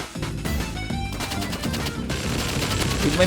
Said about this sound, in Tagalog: With my machine gun.